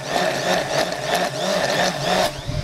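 Bamix immersion blender whirring steadily while emulsifying a sauce, a loud continuous motor drone with slight pitch wavering, close up and running the whole time.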